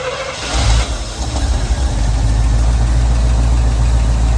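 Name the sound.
K30 truck engine started, idling with a tick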